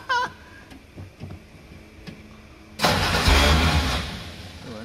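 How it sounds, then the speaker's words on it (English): A forgotten classic car from a warehouse, jump-started, cranks with its starter apparently not disengaging: faint clicks and short bursts first, then a loud, sustained rough engine roar with harsh grinding that carries on to the end, close by. "It sounds like the starter maybe isn't disengaging."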